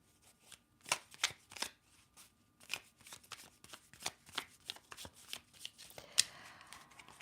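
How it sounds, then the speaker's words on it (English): Tarot cards being shuffled close up, a series of quick riffling and slapping bursts in an irregular rhythm, quiet and without speech. "You see me shuffling."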